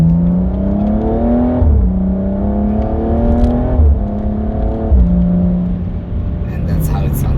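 A BMW M235i with automatic transmission accelerates hard in sport mode, the engine note rising steadily through repeated upshifts, each gear change marked by a brief dip before climbing again, loud and close throughout.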